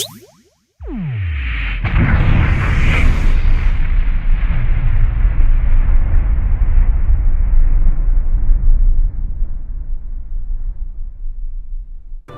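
A huge cinematic Big Bang explosion with a rising whoosh, then a sustained, loud, rumbling roar that slowly fades away.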